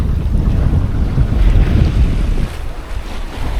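A sailing yacht under way in strong wind off Kefalonia, a steady loud rush of wind buffeting the microphone over water wash and hull noise, easing slightly near the end, with no voices.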